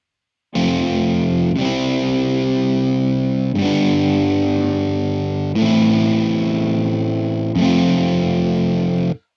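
MIDI guitars in Ableton squashed with the glue compressor: five loud, sustained distorted chords, each held about two seconds before changing, played alone and evenly compressed.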